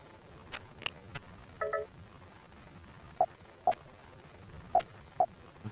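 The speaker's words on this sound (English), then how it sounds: "Something in this room is interfering with Harry's cell phone. Listen to the whine and hone in on the disturbance." Short electronic chirps and tonal blips of cell phone interference from Harry's phone in Silent Hill: Shattered Memories pulse irregularly over a quiet, low hum, some clustered, others spaced about half a second apart.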